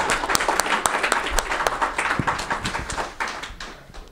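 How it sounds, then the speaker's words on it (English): Audience at a film debate breaks into applause, a lively burst of many hands with distinct sharp claps standing out, rising and then slowly thinning toward the end. "that deserves a round of applause"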